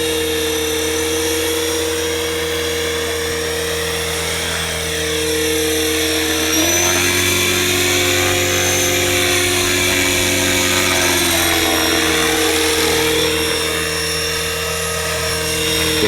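Align T-Rex 500X RC helicopter on its maiden flight, a loud, close, steady high-pitched motor whine and rotor buzz that shifts pitch several times.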